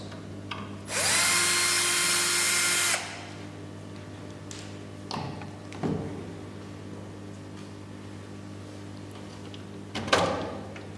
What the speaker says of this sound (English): we need to unscrew the two screws, and it's the baffle